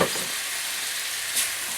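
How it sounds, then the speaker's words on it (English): Chicken pieces sizzle steadily in a hot pan as white wine goes in to deglaze and reduce, a continuous close frying hiss with a brief louder flare near the end, no talking. "I want to deglaze the pan with about 1/2 cup of white wine, and just reduce that wine"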